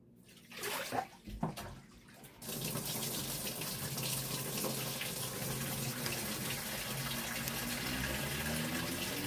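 Dirty water from rinsing off a coffee and egg face mask pours and splashes steadily into a basin, starting with a few sloshes and then settling into a continuous loud gushing stream with no talk.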